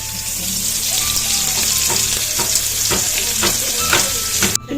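Spice paste for a fish curry frying in a pan, a steady loud sizzle with repeated scraping stir strokes throughout, no talking.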